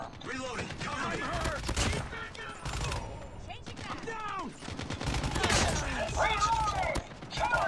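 Rapid gunfire rattles through a Call of Duty Mobile match as dense automatic bursts in quick succession, loud and up close, and a voice talks over parts of the shooting.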